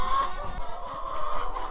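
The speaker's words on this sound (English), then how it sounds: "The chickens are out." Chickens clucking near an open gate outside their pen on a family property, a few close, fairly loud clucks against quiet outdoor ambience.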